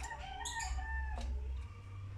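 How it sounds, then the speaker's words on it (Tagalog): A bird plays at a reflective window mirror on an overcast morning, giving a few short, faint calls close by over a low, steady background rumble. "Andito na yung ibon. Naglaro na sa salamin."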